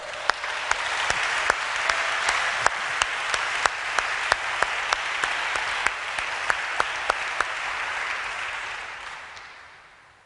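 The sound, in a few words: congregation applauding to acclaim the Lord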